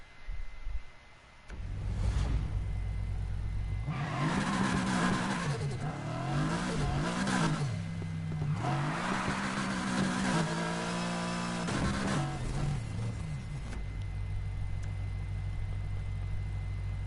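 A Subaru BRZ fitted with a swapped 4-liter V8 in Need for Speed Heat revs hard and repeatedly, its engine note rising and falling in loud, sustained bursts with game audio around it.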